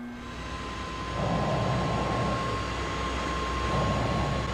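A jet engine in the game Wobbly Life drones steadily with a faint high whine, swelling slightly in loudness partway through, heard alone without talk.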